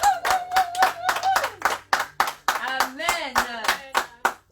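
A church congregation claps in quick rhythmic bursts, loud and close, while voices call out and sing over the applause throughout.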